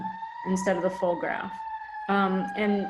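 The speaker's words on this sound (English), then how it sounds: "sorry for the siren in the background" A siren wails in the background with rising and falling tones, running steadily beneath a voice as he talks over it.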